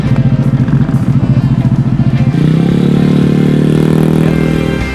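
A motorbike pulls away from a traffic light, its engine first chugging in a fast, steady rhythm and then revving up into a loud, continuous drone close by.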